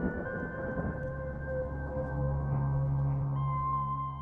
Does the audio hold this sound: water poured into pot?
no